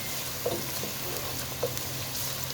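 Onions sizzle in a pan with salt while cooking for chicken biryani, a faint steady frying hiss broken by a couple of soft stirring clicks.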